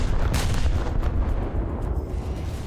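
Main guns of the SMS Nassau, a German dreadnought battleship in the naval battles of War Thunder, fire armor-piercing shells, heavy booming blasts rolling one into another with a deep, sustained low rumble.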